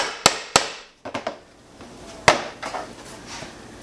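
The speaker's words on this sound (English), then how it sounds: "then I'll just set the rivet real quick" Hammer blows set a rivet in a leather knife sheath: two sharp strikes, a quick cluster of lighter taps, then another firm hit and softer taps, close and dry in a quiet room.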